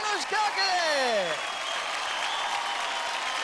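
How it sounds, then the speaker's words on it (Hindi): Audience applause on a televised kids' dance show after a duet performance, a dense steady clapping wash with a few rising whistles and cheers at the start, fairly loud and close throughout. "जोरदार तालियां हो जाए धीरज और अनुष्का के लिए।"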